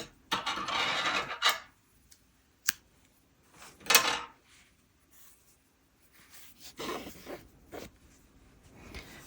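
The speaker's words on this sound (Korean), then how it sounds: "이제 바느질 할 만큼 실 길게 남기신 다음에 잘라주세요." Scissors snip through crochet yarn at the end of a bunny's ear, with a few short dry cuts and small rustles and clicks scattered across the quiet stretch.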